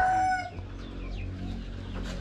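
Buff Orpington chickens on a farm, with a crow-like call fading at the start over steady low background noise and a few faint bird sounds after.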